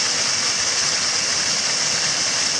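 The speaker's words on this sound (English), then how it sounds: "There's water flowing all around it" Water flowing at a waterfall in the woods at Hidden Falls in Nerstrand Big Woods State Park, a steady, loud, even hiss and rush of falling water with no break.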